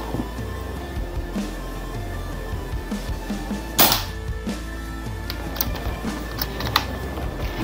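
A PCP Predator Galaxy Tactical air rifle loaded with a 15 mm filament magazine fires once at a target, giving a single sharp crack over a quiet background with faint small ticks afterward.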